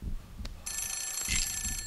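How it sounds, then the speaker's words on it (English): A telephone rings inside The Suffering video game. It is a faint, steady electronic bell trill that starts partway through over a low, murky background rumble. "A phone's ringing."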